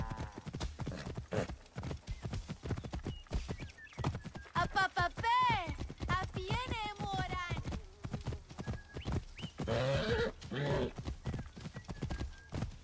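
Rapid hoofbeats clatter loudly throughout a horse race in Assassin's Creed Origins, with a horse whinnying partway through and voices shouting over the galloping.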